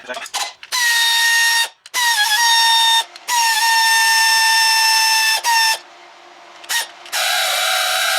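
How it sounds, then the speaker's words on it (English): Pneumatic air gun on a 1993 Mitsubishi Pajero whines loudly in long high-pitched bursts, with brief pauses between runs as bolts come off during engine removal. "I'm going to get the air gun in, because it's just a lot quicker to do it that way"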